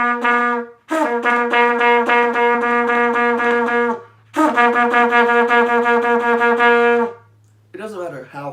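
Trumpet plays a series of distinct notes, each cleanly separated by a 'ta' tongued attack, in steady phrases with brief pauses between groups, loud and close with no other sound.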